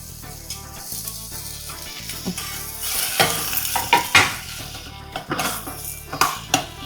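Garlic, shallots, onion and tomato sautéing in a pan, with a continuous close sizzle broken by a spoon stirring and clinking against the metal at irregular moments.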